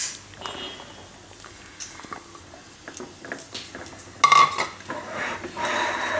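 A spoon stirring grated carrot and beetroot as they roast in ghee in a pan, with scattered soft scrapes and clinks against the metal and a louder clatter toward the end, no talking.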